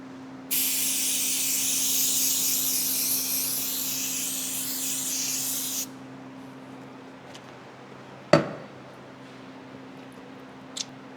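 Engine oil from a Toyota RAV4 Hybrid drains in a steady hissing rush for about five seconds and then stops, followed by a single sharp knock and a faint click in a quiet space.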